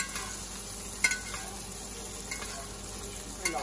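Meat sears quietly in a hot pan, a steady low sizzle with a few sharp clicks and taps of a utensil against the pan.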